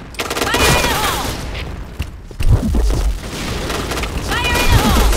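A grenade blast and bursts of rapid gunfire sound in the shooter game Point Blank during a clan match, loud and dense, with booms and crackling shots layered over one another and a voice shouting a warning.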